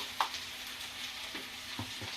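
Onion fries in a little oil in a pan, giving a soft, quiet sizzle with a few faint stirring scrapes over a couple of seconds.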